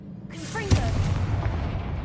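A Confringo spell explosion in the Hogwarts Legacy video game: one sudden, loud blast followed by a rumbling decay, with a brief voice just before it.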